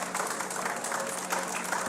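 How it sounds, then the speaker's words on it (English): Applause from a studio audience at a live morning TV show broadcast on stage, a steady dense patter of clapping filling the short stretch at moderate volume. "Big applause."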